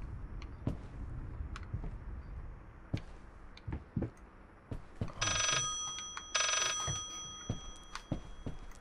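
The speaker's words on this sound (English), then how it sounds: "Oh, right, there's a phone there." A telephone rings in the Layers of Fear horror video game, two bright bursts of ringing standing out over sparse thuds and creaks in a quiet, eerie room.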